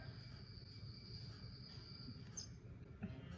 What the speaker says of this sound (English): It sounded like crickets or something, but I think it was coming from the TV